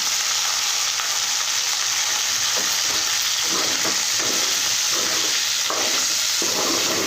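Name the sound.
spice powder frying with chicken in oil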